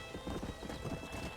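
Horse hooves clip-clopping in a quick rhythm under a rider in the game Red Dead Redemption, faint and brief over a soft background hum.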